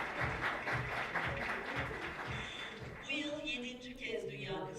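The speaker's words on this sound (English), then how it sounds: "Yes, please give us a hand." A crowd claps in a conference room at a regional conference for the International Day of the Girl Child. The applause is fairly dense and steady for a few seconds, then a voice takes over above the fading clapping.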